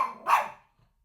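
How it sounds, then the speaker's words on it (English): Pet dogs bark at home, two sharp barks in quick succession, fairly close and clear, then quiet with a faint low thump. "I don't know if you can hear my dogs right now, but they are barking for whatever reason."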